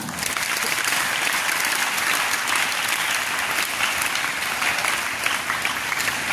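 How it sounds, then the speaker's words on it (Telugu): A school audience at a Teachers' Day gathering claps loudly and steadily for a few seconds, a dense, even burst of applause with no pause. "క్లాప్స్ కొట్టండి"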